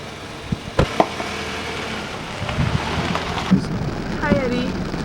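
Steady rain patters throughout with a few sharp knocks and thuds, and brief voices murmuring underneath.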